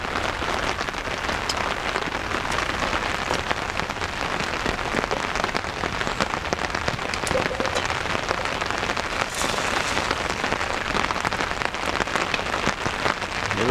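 Drizzling rain pattering steadily on a tarp overhead at a campsite, with a campfire crackling close by, forming a dense continuous hiss throughout.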